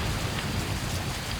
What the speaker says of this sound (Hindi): ये बारिश तो कम होने का नाम ही नहीं ले रही है